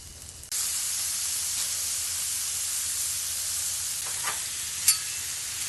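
Steady, close sizzle of steak on a hot 36-inch Blackstone griddle, a constant bright hiss with a couple of brief crackling pops near the end.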